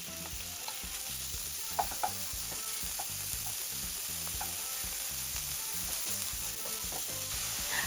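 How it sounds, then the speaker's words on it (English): Sirloin beef sears in garlic oil in a wok over medium-high heat, a steady close sizzle with occasional stirring clicks throughout, and no voices. "Into a wok over medium-high heat, add a tablespoon of our garlic oil. Sear the sirloin beef."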